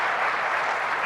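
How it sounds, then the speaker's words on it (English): Union workers clap together in a sustained round of crowd applause, dense and steady from start to finish with no pauses. "You can hear them all clapping now."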